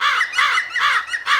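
Hooded crow cawing in a steady series of four harsh, rasping calls, close and loud, with no other sounds around them.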